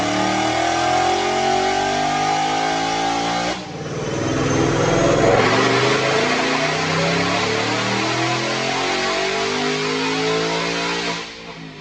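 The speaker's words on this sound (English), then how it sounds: "Check out this dyno pull." A 2019 Mustang GT with a manual gearbox and a Roush Phase 2 supercharger pulling on a dyno, a loud, steady engine roar climbing in pitch, briefly breaking at a shift, then climbing again to a sharp cutoff near the end.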